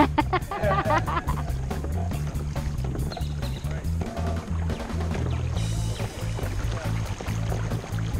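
A fishing kayak glides forward through water with soft sloshing and dripping while someone talks over it, voices loud and near against the gentle water noise.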